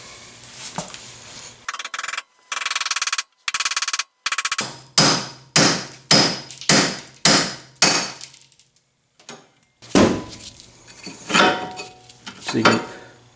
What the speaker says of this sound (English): I just have your regular good old-fashioned East Wing carpenter hammer.